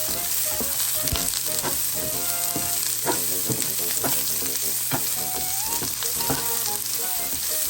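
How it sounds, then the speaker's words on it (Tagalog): Chopped onions and fresh garlic frying in a pan for egg fried rice, a steady close sizzle with scraping stir strokes and clinks throughout, no talking. "you have to add 3 or 4 cloves of garlic chopped and fresh. So you have to stir it."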